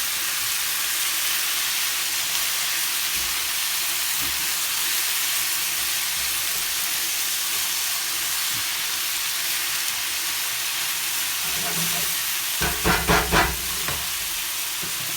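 Mushroom and tofu stir-fry sizzles in a pan with steady frying hiss, then a few loud scraping and clanking stirs near the end.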